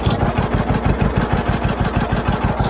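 A 1950s vehicle's old engine runs at a steady idle, with a loud, low, even throbbing pulse that keeps up without a break from start to finish.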